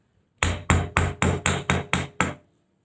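A hammer strikes jewelry wire on a hard surface to flatten it for earrings. Eight crisp, evenly spaced metallic taps sound close up, each decaying quickly, with no talking.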